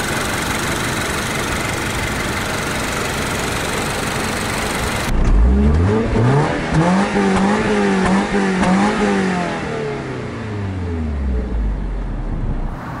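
A 2023 Subaru BRZ's naturally aspirated 2.4-liter flat four-cylinder, upgraded from the 2.0, starts with a quiet, even idle, then rises through several loud revs that climb and fall before settling back to idle, with no talking.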